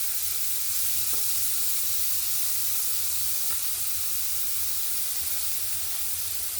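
Shredded cabbage hits a hot pan where garlic has been lightly fried for a vegetable chicken soup, giving a steady, even sizzle and hiss from close by, with faint stirring and no voices.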